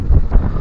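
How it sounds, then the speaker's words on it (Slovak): Gusty wind buffets a microphone outdoors on a walk through a park, a low rumbling roar that swells and dips over a brief moment, with no voices. "Celkom fúka?"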